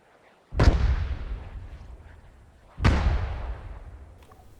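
Two heavy artillery shots fired in the video game Arma 3 with the ACE mod, each a loud sudden boom with a long rolling decay, a couple of seconds apart, alone without talk.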